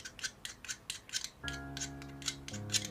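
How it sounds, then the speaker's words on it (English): Pencil lead is scraped against rough paper in a quick series of rhythmic, raspy strokes, close and fairly quiet, with a faint steady hum underneath midway. "I'll scrape it on maybe some other rough paper."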